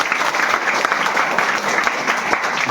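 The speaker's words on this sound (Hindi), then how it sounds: "एक बार जोरदार तालियां बजाएं।" An audience at a business opportunity program in Isuapur, Chapra, applauds loudly, a dense, steady wash of many hands clapping together at close range.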